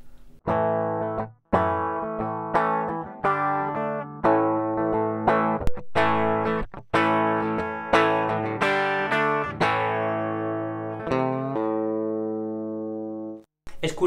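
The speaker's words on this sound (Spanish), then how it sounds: "volvemos a escuchar el sonido con Nosferatu conectado y ahora encenderé el buffer para que oigamos la diferencia" Electric guitar played through a Nosferatu pedal with the buffer switched on, recorded direct to line: a series of clean, sustained plucked notes and chords, each ringing out before the next, ending on a long fading chord.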